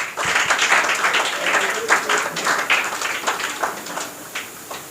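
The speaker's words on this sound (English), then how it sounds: "Momin Khatija, clap for her." An audience at a school confidence-building program gives a sustained round of applause for an award winner, with clapping continuing under voices throughout.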